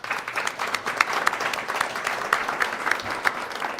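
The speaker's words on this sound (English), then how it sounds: "Give him a warm round of applause." A live podcast audience at the Brooklands Museum gives a warm round of applause to a guest pilot, steady clapping from many hands with a few sharper individual claps standing out.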